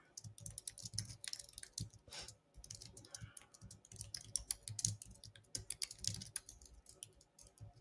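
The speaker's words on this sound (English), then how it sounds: "Can y'all hear me typing?" Rapid typing on a computer keyboard, close and clear, with uneven bursts of key clicks and short pauses, continuing steadily throughout.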